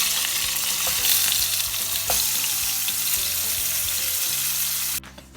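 Food for an English breakfast sizzles and crackles loudly in a frying pan, a dense continuous spatter with a few clattering knocks before cutting off near the end.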